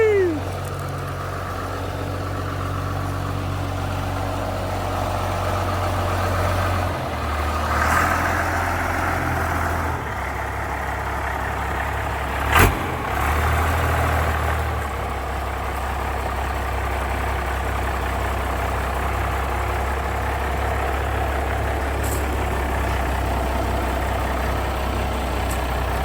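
A 1986 K3500 pickup with a swapped 12V Cummins diesel idles nearby in a steady, low, rumbling drone that shifts pitch slightly a few times, with brief sharp knocks on top.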